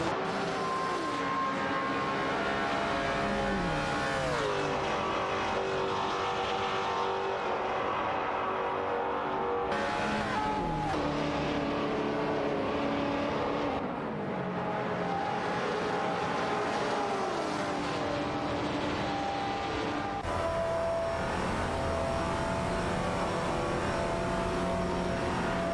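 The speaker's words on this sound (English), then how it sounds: "Bot Tokidokibri, in the Peugeot 308 GSTI, is now engaged in a close battle for 6 against Bot Marty Fries" Race cars, including a Peugeot 308 and a Renault Clio, racing in a video game, with continuous engine drone whose pitch climbs and drops through gear changes and passes. No one speaks.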